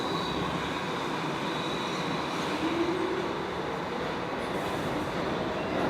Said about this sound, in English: I used to take this train down to Coney Island.